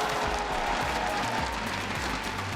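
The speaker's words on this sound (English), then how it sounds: "2025년 스포트라이트 시리즈 퍼시픽의 우승팀 RRQ에게 큰 박수 부탁드립니다" A crowd at a Korean esports grand final applauds the winning team RRQ at the VCT Spotlight Series Pacific 2025, producing a dense, steady wash of clapping and cheering with no break.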